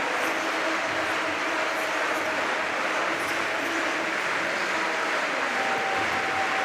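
A stadium crowd claps steadily in a broad, even wash of sound for a pole vaulter attempting a personal best at a night athletics meet, with no pauses and no talk.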